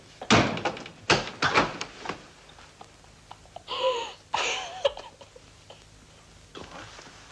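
A door in a 1961 German film scene is handled in a series of wooden knocks and thuds, followed by a brief creaking squeal and a final closing thump.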